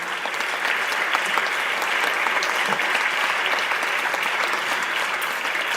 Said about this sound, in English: Please give a huge round of applause to the entire teacher community at KC.